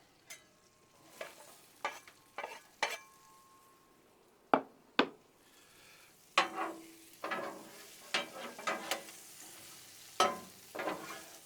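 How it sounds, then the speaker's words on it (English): Onions tossed onto a Blackstone griddle set on low heat, with a steady soft sizzle broken by repeated sharp scraping and clattering strokes from a metal spatula, close and moderately loud. "So now, let's get our onions on."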